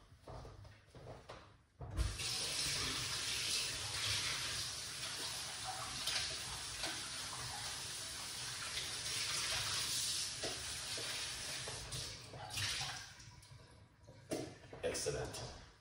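Tap water runs steadily into a sink while purple onions are rinsed under it, a continuous close splashing hiss with a few handling noises at the start and end.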